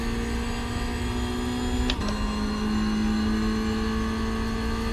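Race car engines in iRacing, a steady droning engine tone holding throughout, with a sharp brief click or shift near the two-second mark and the pitch dropping slightly after it.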